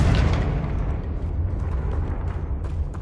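Confringo blasting spell bursting in Hogwarts Legacy, a loud, low rumbling explosion that starts at once and keeps roaring steadily for a few seconds with no voices over it.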